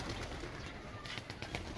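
Pigeons coo softly in the distance in Peshawar, Pakistan, faint murmuring calls half buried in a steady background rumble.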